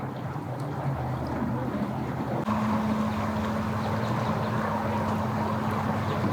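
A motorboat comes in at a boat ramp on a hot, sunny day, its steady engine drone holding at close range for several seconds under wind and outdoor background noise, with a low tone entering partway through.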